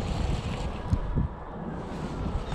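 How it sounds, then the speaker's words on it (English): Wind gusting across a lake during a fishing trip, a steady low rumble buffeting the microphone, with a couple of brief louder bumps and no talk. "that wind picked up"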